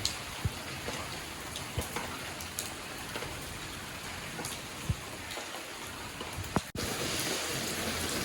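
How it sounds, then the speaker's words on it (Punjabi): Steady, dense rainfall with occasional louder drops and taps close by, a continuous wash of sound with no voices. "ਕਿੰਨਾ ਜ਼ਿਆਦਾ ਆ ਗਿਆ ਵੱਧ ਹੀ ਜਾਂਦਾ ਮੀਂਹ ਤਾਂ"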